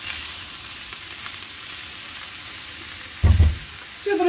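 Cabbage sizzling softly in a skillet, a steady gentle hiss broken by a brief loud clatter of stirring near the end, no voices.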